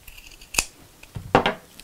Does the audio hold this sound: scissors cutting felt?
yes